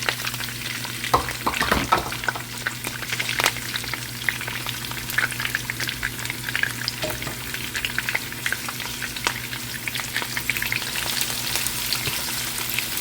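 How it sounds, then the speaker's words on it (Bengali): Onions and green chilies frying in hot oil with curry leaves for a catfish curry, a steady, close crackling sizzle with sharp pops and spatters throughout, with no voices. "পুট করা আরম্ভ হয়েছে, এখন আমি পেঁয়াজ কাঁচামরিচ সব ঢেলে দিব।"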